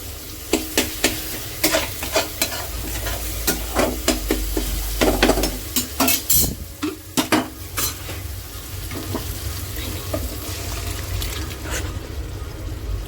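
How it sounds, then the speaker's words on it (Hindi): Spices crackle and sizzle in hot oil, with scraping stirs and a splashy pour of the tempering into lentils, close and fairly loud. "यहाँ से दाल का तड़का लगा रही हूँ।"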